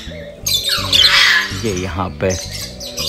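Lovebirds and cockatiels in a large aviary squawk and chirp loudly in bursts, close to the microphone, while someone talks over them.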